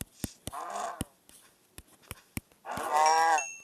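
A cow in Minecraft gives two drawn-out moos, one early and one louder near the end, with sharp rhythmic clicks scattered between them. No one talks.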